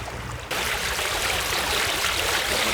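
A sailing boat motors through flat, calm open water off the coast, a steady rushing wash of water along the hull that swells slightly louder after the first half-second and holds close and constant, with no voices.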